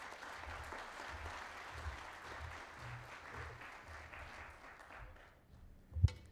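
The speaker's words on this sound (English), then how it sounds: "A round of applause as she takes a seat." Audience applause fills a hall at an environment and wildlife economy summit, a steady distant wash of clapping that fades out, ending in a brief close knock.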